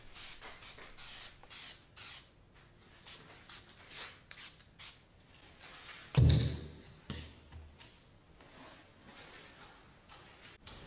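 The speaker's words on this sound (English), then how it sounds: "taking a can of spray lacquer and spraying down all the dice" Short bursts of hissing from a can of spray lacquer coating wooden dice repeat in a loose rhythm, followed by a louder thump and a few more sprays, close up, with no voices.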